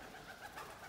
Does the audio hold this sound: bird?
yes